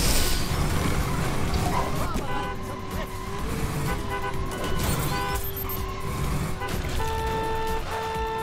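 Several short honks of a car horn in the racing video game LEGO 2K Drive sound over a busy roar of engines and traffic, with a voice talking underneath.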